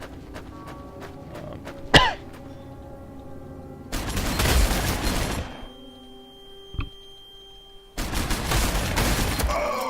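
Gunfire and explosions from the Warhammer 40k Sanctus Reach strategy game: two long loud bursts of dense crackling fire with a sharp crack and a few isolated shots between them, all heard up close.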